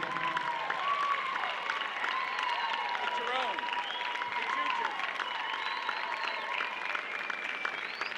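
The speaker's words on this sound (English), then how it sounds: "How about a nice round of applause for Julianne Rafferty." An audience at a horse show in an arena applauds a winning trainer, a steady wash of distant clapping running throughout under an announcer's voice.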